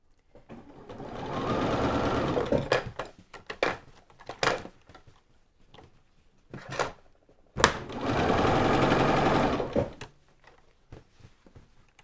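Sewing machine stitching an eighth of an inch from the fabric edge, two sustained runs of rapid mechanical whirring separated by clicks, knocks and handling of the fabric, close by.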